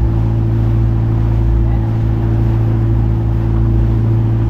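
A motorboat on a river drones past close by, its low engine rumble loud and steady throughout.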